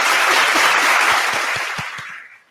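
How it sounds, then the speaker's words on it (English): A room full of people breaks into a round of clapping, loud and dense throughout, then fading away over the final half second. "I had to give Bree a round of applause for that"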